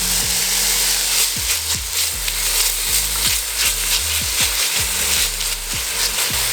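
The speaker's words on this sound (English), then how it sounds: "We're gonna add the onions and the garlic." Onions and garlic sizzle steadily in hot olive oil in a pan, with crackling and occasional stirring scrapes, close and fairly loud, with no talking.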